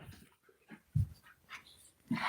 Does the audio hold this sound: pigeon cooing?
no